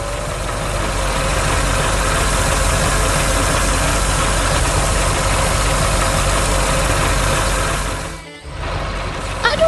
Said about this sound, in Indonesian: traktor biru sedang mengangkut trailer oranye di taman yang hijau